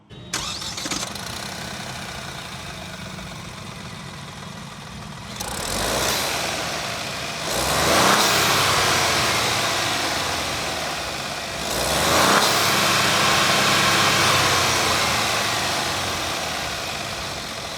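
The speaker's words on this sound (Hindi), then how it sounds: "उससे पहले आप इंजन की एक बार साउंड सुन लो।" A Mahindra XUV 3XO AX5 petrol engine starts up, settles into a steady idle, then rises in two or three brief revs; close and loud.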